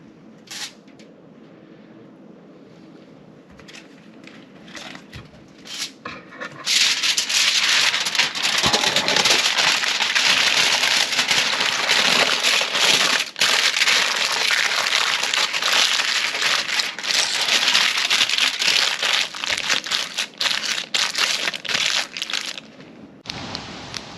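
A freshly lit campfire by a lakeside at dusk, burning loud and close with dense crackling and popping that starts abruptly after a quieter opening and continues steadily to the end, with no talking.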